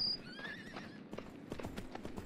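A horse gallops in the video game Myth of Empires, with a quick, fairly faint clip-clop of hooves and a short whinny near the start.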